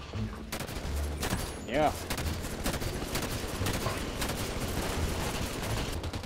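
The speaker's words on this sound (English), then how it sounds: "Can we just keep shooting?" Continuous gunfire in the video game Halo 5, rapid automatic shots running under several players talking over voice chat, with a brief rising electronic whine partway through.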